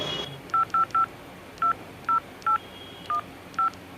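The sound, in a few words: phone keypad dialing tones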